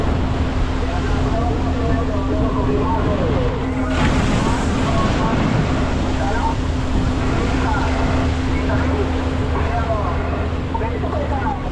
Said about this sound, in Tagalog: Grabe lakas ng alon dito tapat ng ano.